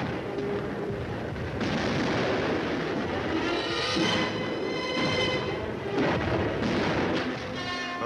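Artillery and tank gunfire in a Korean War battle as the 24th Division attacks a hill near Pohung: a dense, continuous roar of booms and blasts with no talk over it.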